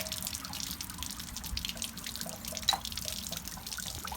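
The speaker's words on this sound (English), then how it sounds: "So the tank is still draining here" Water drains from the water heater tank of a Rockwood Mini Lite 2205S travel trailer, carrying out sediment: a faint, steady trickle and dribble with one brief louder splash, close by.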